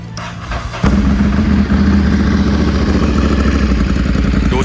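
A 2014 Ducati Monster 796 ABS motorcycle engine catches and runs steadily at a loud, close idle with a rough mechanical clatter, no talking over it.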